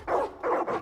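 Dogs in Far Cry New Dawn bark in three quick, loud, close barks in under a second.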